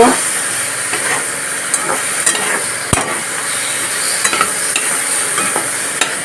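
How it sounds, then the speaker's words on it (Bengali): Boiled potatoes with turmeric and salt are stirred in a hot oiled pan, a continuous sizzle with scraping spoon strokes and occasional sharp knocks against the pan. "হলুদ দিয়ে দিচ্ছি নুন দিয়ে দিচ্ছি এবার আলুটাকে ভালো করে মিক্স করব"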